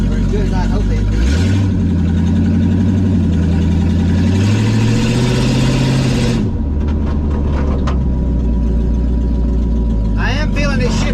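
The engine of a 1976 Chevy LUV pickup hums loudly on a test drive, rising in pitch as it accelerates and shifts, then settling. A person talks over the engine noise.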